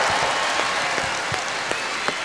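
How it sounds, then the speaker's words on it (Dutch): Loud applause for Sinterklaas at a televised Sinterklaas party from 2002, a dense crowd of clapping hands with a few sharper individual claps standing out, steady for a couple of seconds. "Meisjes, een keihard applaus voor Sinterklaas"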